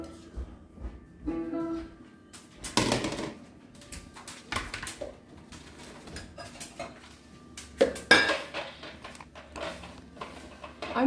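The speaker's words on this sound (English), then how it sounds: "I'm doing the dishes." Dishes being washed in a sink at home, with irregular clattering of pots, plates and cutlery knocking together, some sharp close clanks between quieter rinsing and shuffling, no talking.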